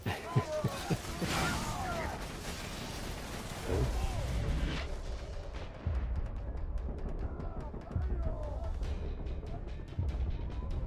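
Gunfire and explosive blasts from the video game Borderlands 2 crackle through chaotic combat, with repeated bursts and booms mixed with game noise and a voice talking over it.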